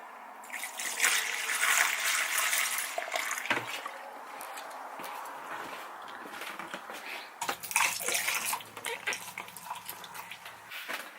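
Water or antifreeze poured down a drain in a 2017 Coachman camper during winterizing, a close trickling and gurgling pour that fades and then returns in a second burst.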